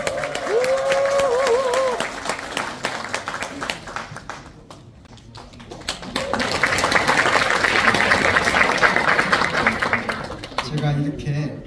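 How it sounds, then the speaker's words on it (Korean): An audience at a Democratic Party education institute event applauds as a guest is called to the stage. A voice talks at the start, then scattered clapping swells into several seconds of steady applause that fades as talk resumes. "큰 박수 부탁드립니다"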